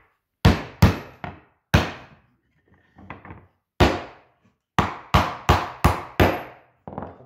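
Hammer blows driving a nail into wood near the edge of a board in a joinery workshop, about a dozen sharp, loud impacts, some in quick pairs and runs with short gaps, alone without talk.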